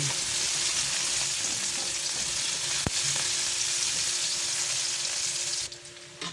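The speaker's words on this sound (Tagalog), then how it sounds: "Lagay na natin yung sibuyas at bawang. Halo-haloin lang hanggang ito ay mag-golden brown." Onion and garlic sautéing in a hot pan for Filipino caldereta, a steady loud sizzle throughout with a single sharp clink partway through before the frying briefly quiets near the end.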